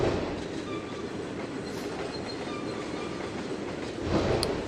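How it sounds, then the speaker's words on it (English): Trains roll steadily past in Trainz 2022, a continuous rumbling rail noise with faint wheel clatter and squeal, building slightly louder near the end, with no talking. "Just enjoy the wonderful trains that are going by."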